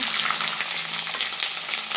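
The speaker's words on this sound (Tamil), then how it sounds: "இப்போது நறுக்கி வச்சா பச்சை மிளகா உள்ளே போட்டோம்னா கொஞ்சம் தள்ளி நின்றுக்கோங்க" Green chillies frying in hot oil give a loud, crackling sizzle, a dense continuous spatter close by.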